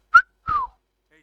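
A person whistles two short, clear notes close to the microphone, the second held a little longer and sliding downward, with silence around them.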